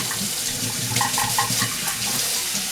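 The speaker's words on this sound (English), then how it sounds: "We rinse out the sink. And rinse out the cups" Tap water runs steadily into a kitchen sink as the sink and cups are rinsed, a continuous hiss with small splashy changes as items pass under the stream.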